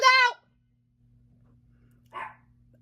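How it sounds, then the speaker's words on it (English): A dog barks twice, a sharp burst at the start and a shorter, quieter one about two seconds later, with a low steady hum in the background. "The dogs were barking clearly."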